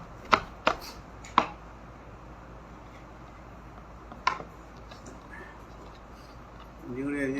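Ginger being chopped with a knife on a board: three sharp cuts in quick succession, then a pause and one more cut, close by, with soft speech toward the end.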